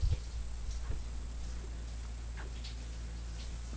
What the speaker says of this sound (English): Crickets galore.